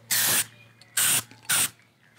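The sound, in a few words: black spray paint can spraying on a car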